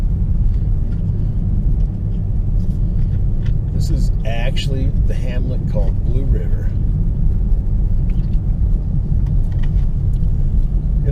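A new Ford car drives along a snowy road, giving a steady low engine and road rumble throughout while someone talks over it.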